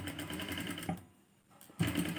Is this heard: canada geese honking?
no